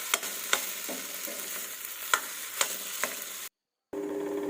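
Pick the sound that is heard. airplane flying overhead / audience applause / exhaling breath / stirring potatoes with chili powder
stirring potatoes with chili powder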